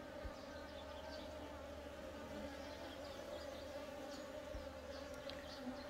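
Honeybees buzz steadily inside an eight-frame hive, a faint, continuous, even drone with a few soft thumps and no break across the whole stretch.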